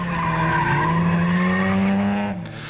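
A yellow Tatrabant drift car, built with Tatra 613 parts, squeals its tires in one long, loud, continuous skid that fades out near the end, with engine noise underneath at a drifting event in Prague.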